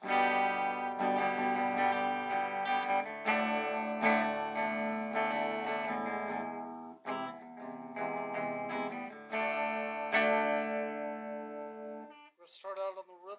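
Clean electric guitar notes and chords from a Vintage 25th Anniversary V100 SVB ring out one after another, clear and sustained, with a few brief pauses and no talking.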